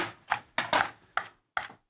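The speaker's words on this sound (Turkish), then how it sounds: "Dur sen onları doğra." A knife chopping food in a home kitchen, five distinct sharp chops spaced irregularly with short pauses between them, close and clear with no voices.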